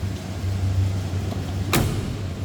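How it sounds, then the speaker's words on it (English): A single solid thud of a 1966 Dodge Coronet 440 sedan's door shutting cuts through a steady low engine hum, close and fairly loud. "Door closes nicely"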